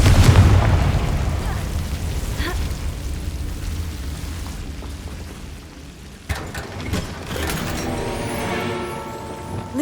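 A Confringo explosive spell blasts in Hogwarts Legacy, opening with a loud, close booming burst that decays into rumbling debris, followed by fainter crackles and a second sharper impact later, with no talk.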